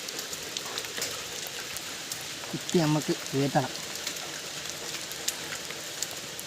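Steady outdoor rain patters down throughout while chicken is prepared for Kerala-style grilling, with a person speaking briefly near the middle over the constant hiss.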